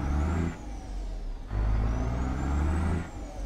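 A truck with a tuned Cummins ISX EGR engine pulls out of a yard with a heavy load in American Truck Simulator. The deep diesel drone swells and drops as power is applied, eased off and applied again, with gear changes between.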